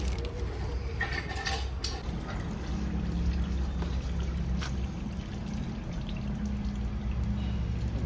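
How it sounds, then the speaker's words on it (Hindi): Gear oil poured into the gearbox of a Maruti Suzuki Wagon R during a service, a steady close pouring and trickling wash with a few clinks near the start. "ये डाल रहा है भाई गियर ऑयल।"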